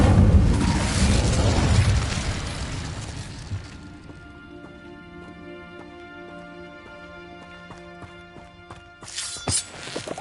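A loud booming blast from an Incendio fire spell opens the scene, its roar decaying into a lingering ringing tail, with a sharp crackling burst near the end.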